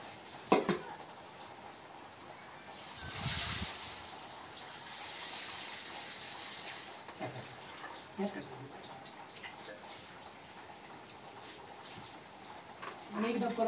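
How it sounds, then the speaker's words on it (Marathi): Paddy seeds are rinsed and swished in clean water, giving a steady wet sloshing and gushing wash with occasional splashes, close by, with faint voices in the background. "हे बियाणे काढल्यानंतर याला शुद्ध दोन वेळा शुद्ध पाण्याने धुवून घ्यायचं।"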